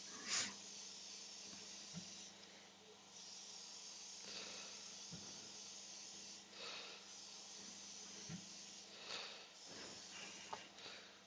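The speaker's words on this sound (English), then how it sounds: "I'm just going to let it overspray on the bottom" Finish is sprayed onto a woodturned piece as a soft, steady hiss lasting several seconds, with a few brief pauses and small knocks, faint and without talk.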